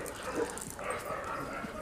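Rajapalayam dogs at a breeding kennel bark and yip sporadically at a moderate distance, several short calls scattered over steady background noise.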